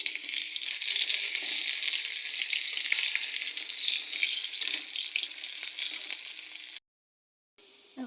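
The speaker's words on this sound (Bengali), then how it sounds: "দিয়ে দিচ্ছি রসুন কুচি। এগুলোকে এখন ভালোভাবে নেড়ে নেব।" Chopped garlic and onion frying in oil as they are stirred, a dense continuous sizzle close up that cuts off briefly near the end, no voices.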